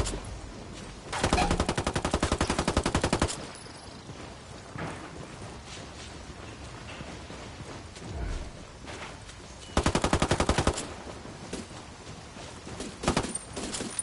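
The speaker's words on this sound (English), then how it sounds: "Under heavy fucking fire" Heavy gunfire in a PS4 shooter game comes in two long bursts of rapid automatic fire, loud and close, with scattered shots, rumbling impacts and faint background sound between them.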